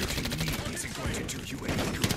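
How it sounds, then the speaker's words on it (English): Call of Duty gunfire on a smoky multiplayer map: rapid, continuous bursts of shots fill the whole moment with loud, dense crackle and no pause. "Keep shooting at my teammates."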